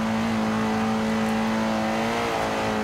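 A car engine in Forza Horizon 2 drones at high, steady revs while stuck at about 107 mph, unable to shift, with a continuous loud tone and no talk.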